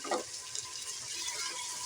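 Two medium tomatoes with five or six green and red chillies fry in a pan after ginger and garlic, giving a steady, close sizzle and hiss with a brief louder spurt at the start.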